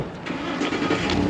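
A 2022 Volvo VNL 760 truck engine turns over at a key turn, a short close cranking growl that swells into running, fairly loud.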